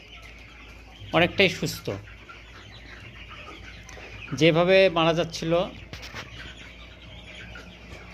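Chickens cluck in two short bursts on a poultry farm where the flock is recovering from disease, while a person speaks nearby.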